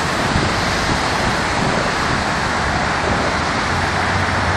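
Hurricane Sandy storm waves crash onto a Chicago beach in a loud, continuous roar of surf mixed with heavy wind buffeting close to the microphone.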